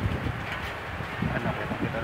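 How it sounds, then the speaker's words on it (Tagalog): Strong wind blows steadily during rain beside an accommodation building in Qatar in the afternoon, a dense continuous rush close to the microphone with gusty swells. "Ayan, nalakas po ng hangin,"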